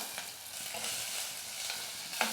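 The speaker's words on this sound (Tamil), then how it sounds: "வெங்காயம் நல்லா வதங்கட்டும்" Chopped onion sautés in oil with garlic and green chillies, making a steady, moderately loud sizzle with soft scraping stirs and a small clack near the end.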